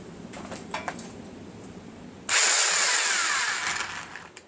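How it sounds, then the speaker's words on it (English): An electric impact wrench removes half-inch bolts during the teardown of a blown Briggs & Stratton 17.5 HP engine. Faint clinks of handled parts come first, then a loud, close hammering whir that runs steadily for about two seconds. "Got my electric impact out."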